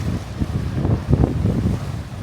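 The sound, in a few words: sea waves and wind on Scottish island shore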